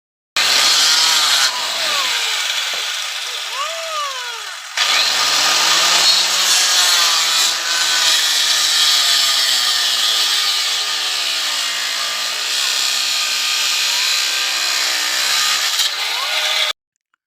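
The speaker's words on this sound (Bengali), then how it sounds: "এই নিচের তক্তাটাও ওর মতন একই মাপে কাটবো।" A wooden plank is hand-sawn to size for a small one-foot deity base, with loud, close, continuous rasping strokes in a steady back-and-forth rhythm and a short pause partway through.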